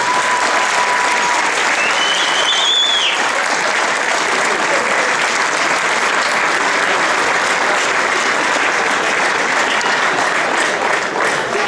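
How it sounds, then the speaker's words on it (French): A large crowd applauds the officials and referees at the opening ceremony of a sports tournament, giving dense, sustained clapping with a brief whistle-like tone near the start. "Donc on peut applaudir l'ensemble des arbitres officiels."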